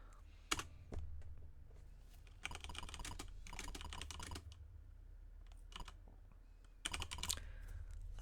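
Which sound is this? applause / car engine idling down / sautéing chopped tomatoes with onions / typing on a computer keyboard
typing on a computer keyboard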